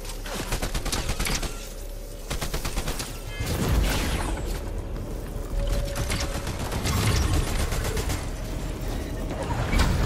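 Constant video-game gunfire during a ranked match, with rapid automatic bursts and weapon mechanism clicks, loud and dense throughout with overlapping shots and effects.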